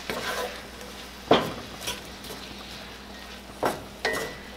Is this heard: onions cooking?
yes